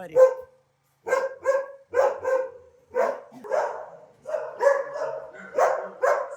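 Dogs at an animal shelter in Hostomel bark and yip in repeated short bursts, several loud close barks overlapping in an irregular rhythm, with no talking.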